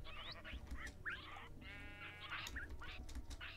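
A Minecraft parrot mimics a sheep with several short synthetic bleats over a steady game background hum, repeated in quick bursts alongside chirpy bird-like tones.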